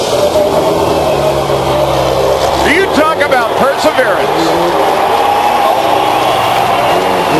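A wrecked rallycross car at the 2008 X Games revs its engine while backing up in a stadium, a steady loud engine drone with rising revs, heard under an excited commentator's voice.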